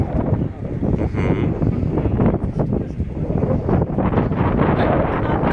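Strong wind gusts buffet the microphone on a cloudy mountaintop at Crucea Talienilor in the Stânișoarei Mountains, a loud, continuous roar that rises and falls, with no clear speech.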